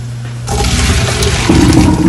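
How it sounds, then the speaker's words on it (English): Cooked carrots and very hot water poured from a pot into a kitchen strainer, making a loud, steady rush of splashing water that swells midway and continues to the end without talk. "Carrots are done, so I'm coming across very hot towards our strainer."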